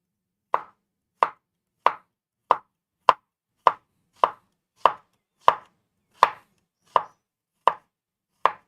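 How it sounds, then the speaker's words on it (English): A knife chops cucumber on a cutting board with diagonal cuts, about thirteen crisp, evenly spaced strokes, loud and close, with nothing else audible between them. "I'm going to do a diagonal cut"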